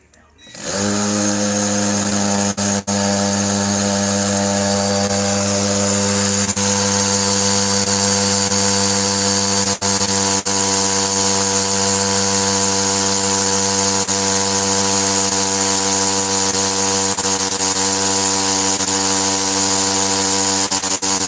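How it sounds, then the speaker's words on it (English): An INGCO power drill fitted with a bit drives into a building block: the motor spins up sharply and holds a loud, steady high-pitched whine with grinding for about twenty seconds. "So now we would like to try this block, see how's the capability with this drill bit."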